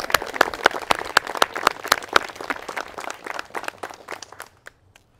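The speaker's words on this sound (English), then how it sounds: "A round of applause for our couple," Wedding guests applaud the newly married couple at the ceremony, a loose patter of individual hand claps that starts fairly full and thins out, fading to a few scattered claps at the end.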